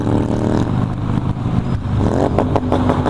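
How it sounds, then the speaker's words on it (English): A motorcycle engine revs hard and continuously, loud and close, with rising and falling throttle blips and mechanical clatter. "Will he succumb to the baby, childish manner of revving?"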